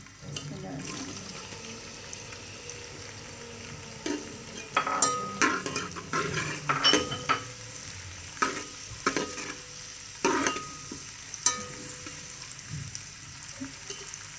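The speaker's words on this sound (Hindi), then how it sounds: "अब इसमें मैं प्याज शामिल करूँगी।" Chopped onions sizzle and crackle as they drop into hot oil in a pan, with bursts of stirring and spattering over a steady fry, for a green chickpea pulao.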